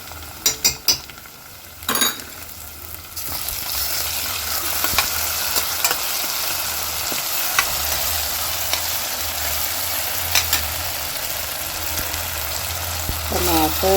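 Onion and green chilli paste fries in a pan in a home kitchen, with a steady sizzle under a few early clatters of a utensil. Faint talk can be heard in the background.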